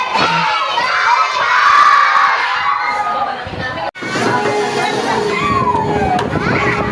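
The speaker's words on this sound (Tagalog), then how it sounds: "Kukulit yung mga bata pero nakakatuwa." A crowd of children shouts and squeals playfully at close range, their voices loud and overlapping in continuous excited cheering that dips briefly before rising again.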